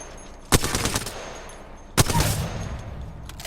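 Two short automatic bursts of hip-fired gunfire in Apex Legends, each a loud crack followed by rapid rattling shots lasting about half a second, separated by a pause.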